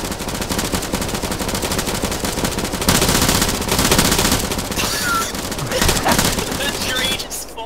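Rapid automatic gunfire from an Escape Stratis firefight rattles in sustained, dense bursts with a few heavier booms, loud and close throughout, and voices come in briefly near the end.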